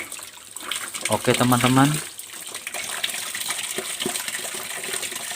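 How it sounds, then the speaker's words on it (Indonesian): Water gushes steadily after the stop valve is opened on a homemade 3-inch PVC pipe water filter, a constant rushing flow that continues after someone speaks briefly at the start. "baru kita putar stop kerannya dan kita nyalakan stop kerannya sehingga airnya akan menjadi jernih"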